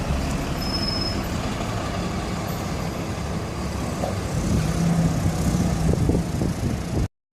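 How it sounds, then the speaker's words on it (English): A bus pulling away on a street on the Isle of Wight, its engine rumble building steadily under a continuous hum of road traffic, with a brief air-brake hiss and no talking. "there's a bus just going out"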